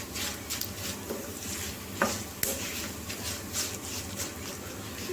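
Tempering sizzles steadily in a pan on the stove for pachi pulusu, a dense crackling hiss with a few sharper clinks and pops over the top, with no voices.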